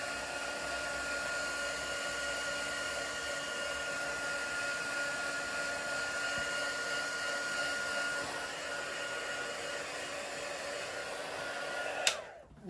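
Hair dryer blowing to dry a painted card background, a steady loud whir running continuously for about twelve seconds, then a click as it switches off.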